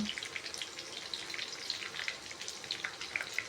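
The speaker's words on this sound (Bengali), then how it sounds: "এবার আমি পেঁয়াজ কেটে রেখেছিলাম ওটা দিয়ে দিলাম দিয়ে কিছুক্ষণ আমি ভেজে নেব" Chopped onion frying in a pan for chilli paneer crackles with a soft, continuous sizzle and scattered pops at low volume, with no talk.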